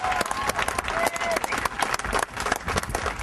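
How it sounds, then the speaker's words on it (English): Audience applause at a neighborhood house grand opening: dense, steady clapping from a crowd for a few seconds, with some faint voices mixed in. "we could give our Youth Build crew a big round of applause right now"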